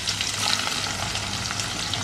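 Long-sliced onions hit hot oil and fry with a steady, close, bright sizzle and crackle, a continuous dense hiss with no talking.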